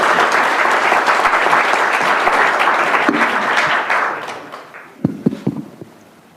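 Loud, dense applause from a crowd at a Korean political jobs-forum launch ceremony, fading after about four seconds into a few scattered final claps.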